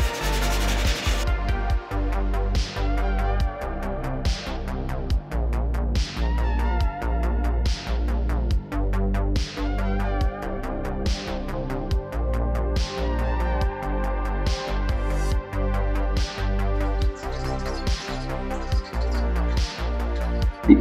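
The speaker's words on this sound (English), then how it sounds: "I had to smoothen the cut edges with the sandpaper because I didn't want any splinters getting in my hands." Sandpaper rubbed over the cut edges of wood pieces for a DIY Bluetooth speaker, a close, steady rhythm of repeated scraping strokes about once a second, continuing throughout with no talk.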